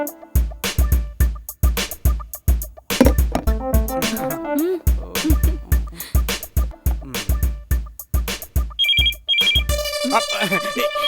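A melodic telephone ringtone plays loudly in a repeating rhythmic pattern, with a higher chiming tone near the end.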